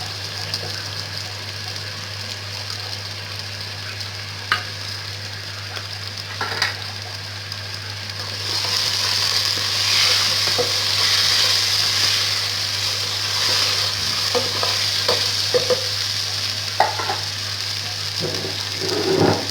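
Chicken frying and being stirred in a pot for yakhni soup gives a steady soft sizzle with occasional scraping stir clicks, growing louder partway through, over a constant low hum.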